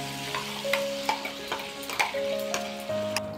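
Spice paste sizzles in a hot frying pan while Bengali khichuri is cooked, steady frying with scattered crackles and a few utensil clicks, close and moderately loud with no talking.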